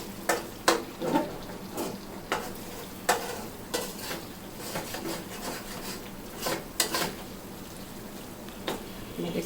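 Mutton masala in a pan for Nizami mutton, stirred and fried: repeated sharp scraping strokes of a spatula over a low steady sizzle, close and moderately loud, no talk.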